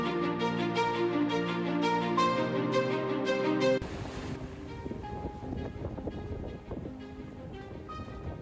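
Waves and swell wash around a boat anchored at sea, with steady wind noise and water rumble; a loud musical passage fills the first few seconds before the sea sounds take over.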